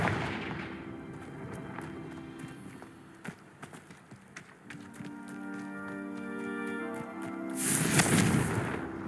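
A Confringo fire spell blasts in Hogwarts Legacy, a bursting, crackling explosion swelling near the end over a busy layer of game sound effects and music, with earlier sharp cracks scattered throughout.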